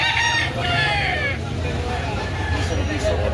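A rooster crows loudly up close on a chicken farm in Carbon, Cebu, one drawn-out call over a busy background of people talking and faint traffic noise.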